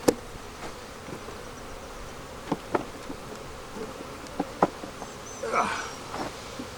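Honey bees buzz around an opened beehive during post-harvest splits, a faint steady hum with a few louder passes close by and scattered light knocks, no talking.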